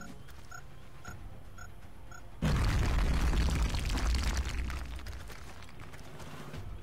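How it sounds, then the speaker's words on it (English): In XCOM: Enemy Within multiplayer, a few soft ticking beeps come before a grenade detonates in a sudden loud boom, which rumbles and fades over the next couple of seconds. "Grenade out!"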